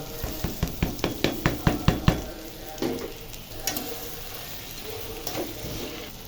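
Tomatoes tipped into a pan of spiced rice mixture frying in ghee with soy sauce and tomato sauce, giving a rapid run of loud clattering stirs and knocks, then a steady sizzle with occasional scrapes.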